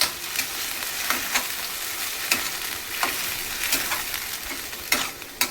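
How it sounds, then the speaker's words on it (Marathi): A pan of palak paneer ingredients fries and is stirred: a steady, loud sizzle broken by frequent sharp scrapes and taps of a spoon against the pan, with no one speaking. "थोडंसं याला फ्राय करूया. परतून घेऊया."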